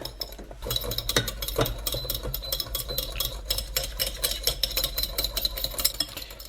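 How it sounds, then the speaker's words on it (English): Egg yolk whisked in a bowl with a whisk for a dark chocolate dessert, giving a steady, fast rattling and clinking of metal against the bowl that runs continuously and fairly loud throughout, with no talking. "we take our whisk tool and our egg yolk, get it in, and carefully begin to whisk"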